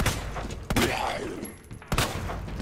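Shotgun fire in Resident Evil 2 Remake, heard as two sharp, loud blasts about a second apart, each with a short decaying tail over steady game background.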